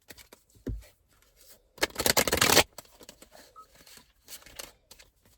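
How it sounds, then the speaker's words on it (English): Cards are riffled in a dense burst of rapid flutter, with scattered light taps and handling noises before and after. "I'm gonna shuffle one more time."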